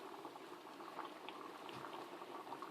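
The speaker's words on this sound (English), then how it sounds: "You don't want it to be a really high wild boil like it is right now." A pot of maize at a hard, rolling boil on a stove, with dense continuous bubbling and popping, close and steady.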